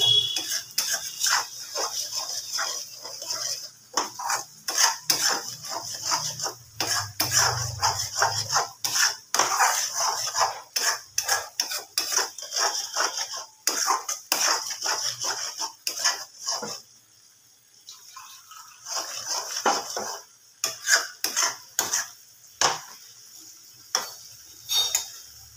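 Egg curry being stirred in a pan after water is added: repeated scraping and clinking of a utensil against metal, close and irregular, with a faint simmer underneath and no voices.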